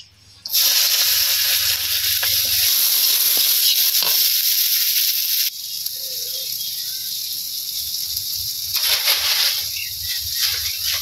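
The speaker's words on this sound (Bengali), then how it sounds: "পেঁয়াজ কাঁচামরিচ সম্বাস দিয়ে দিতেছি।" Onions and green chilies sizzle in a pan, likely over a leaf fire, making a loud, continuous frying hiss that abruptly shifts to a slightly softer crackle partway through.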